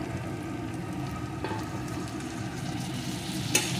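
Cumin paste fries in a pan with a low, even sizzle and bubbling, a couple of faint utensil taps, no one speaking.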